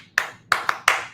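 Four sharp, bright claps in an irregular rhythm, close and loud with short decays, recalling the clap associated with University of Texas football.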